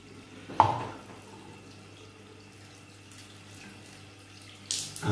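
Tap water running into a sink for a badger silver tip shaving brush, a soft steady flow with a splash near the start and louder gushing at the end.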